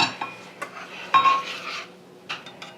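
Spaghetti sauce is stirred in a blue Dutch oven, with a spoon scraping and clinking against the pot in short, irregular bursts close up and a faint ring after one knock.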